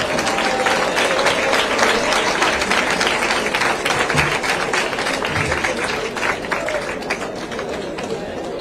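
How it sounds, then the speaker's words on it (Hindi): Loud, sustained audience applause in a college hall after a governor's address, a dense wash of clapping with faint crowd chatter beneath. "जोरदार तालियां।"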